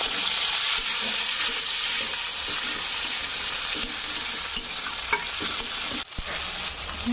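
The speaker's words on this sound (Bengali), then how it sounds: "কুচি করে রাখা টমেটো দিয়ে দিব" Chopped tomato added to frying onion and cumin in a pan, a steady loud sizzle with scraping stirs and a short clatter near the end, no voices.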